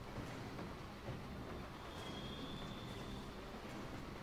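A train in a video game rolls along with a steady, dense rumble and faint rail clatter, continuous and moderately quiet without talking.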